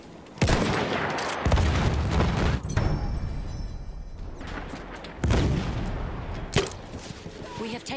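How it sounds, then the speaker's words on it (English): Grenade blast in the Battlefield 1 video game, one of several loud booming explosions and gunfire bursts in a chaotic battle, with some shouting voices mixed in. "Grenade been thrown!"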